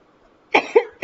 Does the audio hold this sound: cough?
yes